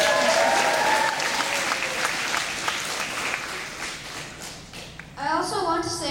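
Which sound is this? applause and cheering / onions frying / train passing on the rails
applause and cheering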